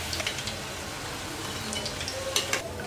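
Ragi (finger millet) pakoda frying in hot oil, a continuous close sizzle and crackle with a few brighter pops and the scrape of stirring, no voices.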